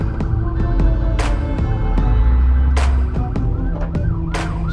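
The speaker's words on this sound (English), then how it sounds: "So they gotta move out the way, damn ambulance." A loud ambulance siren wails continuously over a steady low rumble of traffic, with sharp electronic yelps cutting in repeatedly.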